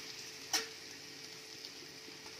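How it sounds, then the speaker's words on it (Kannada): Onions and coriander frying in a pan over a medium flame for jeera rice give off a faint, steady sizzle, with one brief sharper crackle near the start. "ನೋಡ್ರಿ ಈಗ ಈರುಳ್ಳಿ ಫ್ರೈ ಆಗೈತ್ರಿ"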